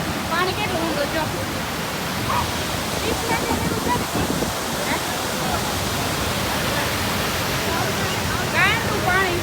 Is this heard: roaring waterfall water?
yes